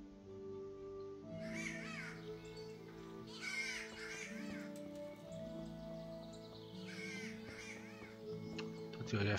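A crow-like bird caws in the medieval video game Kingdom Come: Deliverance. Several harsh calls rise over a steady, sustained musical ambience at a moderate distance.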